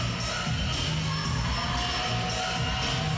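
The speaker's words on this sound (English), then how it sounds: "Good crowd in for the evening game." Crowd noise filling a fairly full gym before an evening women's basketball game between Russia and Greece, a continuous dense murmur and cheering with no clear peaks.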